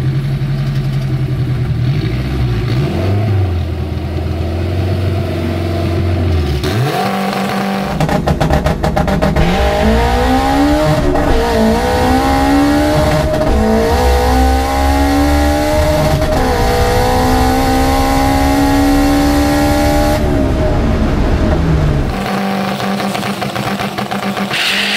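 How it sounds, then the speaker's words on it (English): A stock Honda K20 drag car making about 658 wheel horsepower idles and then launches hard down the drag strip, its engine screaming loud and close through rising gear pulls with sharp shifts, then backing off at the end. "Sounding pass out the hole, guys. That is probably the fastest launch I've seen."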